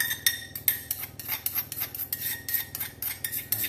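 Chopped garlic, with basil nearby, is worked together by hand in a bowl, giving a quick, rhythmic series of wet rubbing and scraping strokes, close and fairly soft with no talking.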